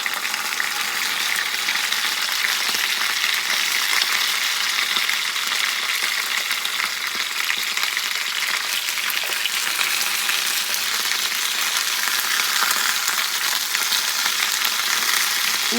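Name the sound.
potatoes frying in a pan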